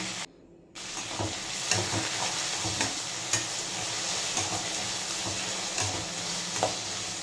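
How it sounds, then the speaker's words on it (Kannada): Onions and tomato frying in a pan for upma, a steady close sizzle with a brief drop near the start and repeated scrapes and clinks of stirring throughout. "2 ಆನಿಯನ್ನ ಫ್ರೈ ಮಾಡ್ಕೊಳ್ಳಿ."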